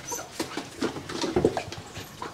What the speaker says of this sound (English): we got greetings from dogs